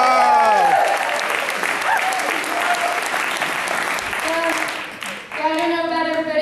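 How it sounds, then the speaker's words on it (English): An audience at a Celtic solstice celebration claps loudly and steadily for several seconds, dense applause that fades toward the end as a voice and a few scattered claps remain. "let's give ourselves a round of applause for getting through the longest night of 2012"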